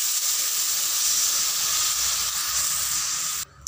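Water poured into a hot pan of Bengali-style starfruit chutney with kasundi sets off a loud, steady sizzling hiss that continues almost unbroken before cutting off abruptly near the end.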